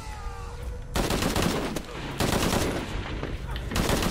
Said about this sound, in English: He's gonna shoot him